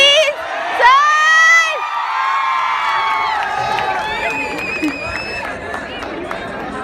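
Children shout and cheer loudly in a crowd at a school farewell function, high excited whoops rising over busy chatter, with the noise staying dense and lively throughout.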